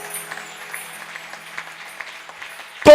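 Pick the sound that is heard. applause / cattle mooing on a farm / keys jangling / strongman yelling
applause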